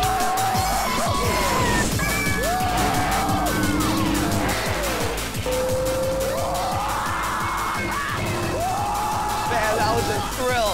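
Epcot's Test Track ride vehicles racing and skidding, a continuous loud roar with engine revs and tire squeals rising and falling throughout, mixed with a driving soundtrack and excited voices.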